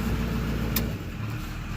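An LB7 Duramax diesel truck engine idles very quietly at a lowered idle speed, a smooth, steady low rumble close by with no talking.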